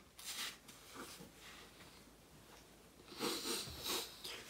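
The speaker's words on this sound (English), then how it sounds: "I have to blow my nose." A man blows his nose indoors in a few faint bursts of breathy, hissing air, with a longer, louder honking blow near the end and no speech.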